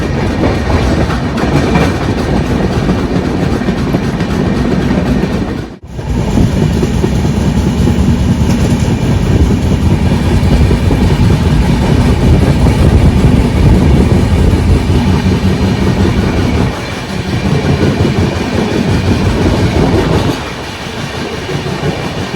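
Steady loud rumble and clatter of the Rajendranagar–Ara special train rolling out of Danapur station, heard from inside a sleeper coach, with one sharp break near the start and continuous wheel noise throughout.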